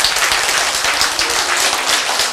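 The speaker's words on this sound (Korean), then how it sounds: "박수" An indoor audience at a health lecture on stroke and arteriosclerosis breaks into steady, dense applause, with many hands clapping close together and no voices over it.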